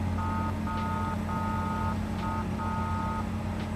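A car horn in the Apocalypse Rising 2 video game honks in several short and longer bursts over a steady low engine drone, with no voices.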